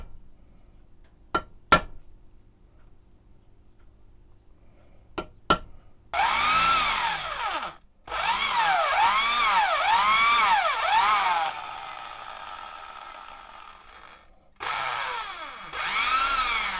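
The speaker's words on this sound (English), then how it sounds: "I'll start filing around the edges and drilling out these holes" A power drill bores holes in a homemade metal maker's mark stamp for leather work. A few sharp clinks come first, then the drill whines in long bursts with pauses between them, close and loud.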